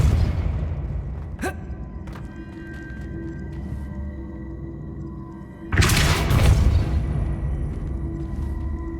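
Hogwarts Legacy's Repulsor spell lets out a heavy, booming whoosh partway through, loud and broad, rolling over quieter game ambience that follows a brief earlier crack.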